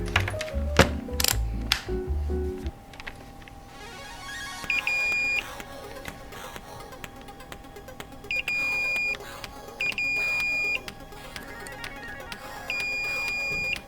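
The power switch of a pink Japanese Game Boy Pocket is flicked on and off, giving a burst of sharp, close plastic clicks, then quieter intervals broken by short electronic tones and soft clicks.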